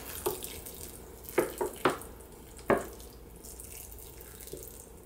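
Water poured onto soil in a potted plant of greens, soft faint trickles and a few brief splashes spread over a few seconds in a quiet room.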